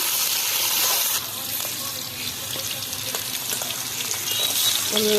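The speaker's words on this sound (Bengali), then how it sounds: "কাঁকরোল আলু একসঙ্গে ভাজা করে নেব" Pointed gourd and potato frying together in oil in a wok, giving a steady, fairly loud broadband sizzle that continues throughout with faint stirring clicks and no talk.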